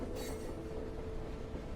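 A train runs steadily throughout, a continuous low rumbling roar with wheel noise, and a brief hissy burst near the start; no talk.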